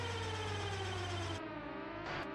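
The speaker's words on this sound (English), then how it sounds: "Oh no, there actually are alarms." Alarm siren in the mech strategy game Front Mission 3, a continuous electronic tone droning steadily and then cutting off partway, leaving layered game sound behind it.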